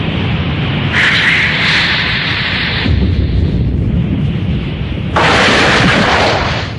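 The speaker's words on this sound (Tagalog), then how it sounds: "Ang lakas ng pagsabog!" A loud blast roars out in a continuous rumbling wash, with bright bursts of crackle swelling in twice over the sustained low boom.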